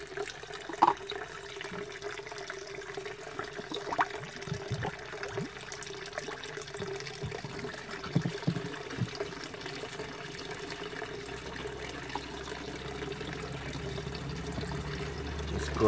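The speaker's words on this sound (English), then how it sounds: "This is a kind of filter. Here's my siphon filter." Water runs and trickles steadily through a siphon filter in a backyard aquaponics system in Nepal, a continuous moderate splashing flow with a few brief knocks and no talking.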